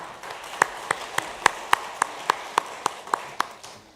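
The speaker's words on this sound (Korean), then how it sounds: "식구들 나오시는데 한번 박수 한번 하겠습니다" Church congregation at a Wednesday worship service claps together in a slow, steady unison rhythm, about a dozen sharp, evenly spaced beats over a faint murmur of the room.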